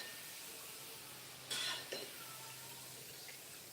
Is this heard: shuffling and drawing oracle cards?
no